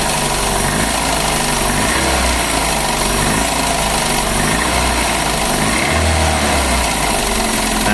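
Daihatsu Grand Max engine in neutral being revved, running rough with an abnormal internal knocking, a steady close mechanical drone with a fast ticking rattle throughout.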